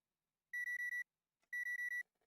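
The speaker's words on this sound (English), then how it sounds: "We have the alarm clock sound." Alarm clock sound effect in a Ren'Py visual novel: two bursts of four rapid electronic beeps each, clean and bright, separated by a short pause in near silence.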